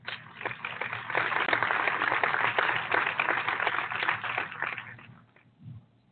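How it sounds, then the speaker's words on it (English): Applause sound effect playing over a show segment: a steady wash of many hands clapping, loud and continuous for about five seconds before fading, with a brief low thump near the end. "Let's applaud Nick Cannon for those words."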